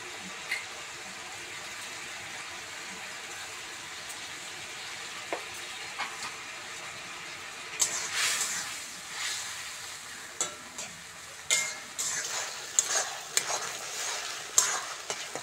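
Chopped tomato fries in a hot pan for egg biryani, with a steady close sizzle. Stirring scrapes and knocks grow busier in the second half, and no one speaks.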